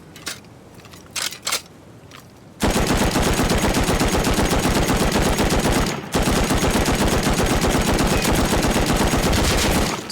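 Rapid automatic gunfire in the video game Rust, a few separate shots at first, then a long, loud, unbroken burst of fire with one brief pause partway through.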